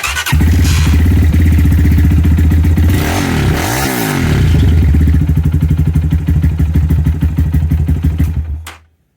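Lifan KPR 200 motorcycle with a newly fitted front sprocket starts and runs at a loud, close, rapid idle with a chain clatter, briefly revving midway before the engine shuts off and falls silent.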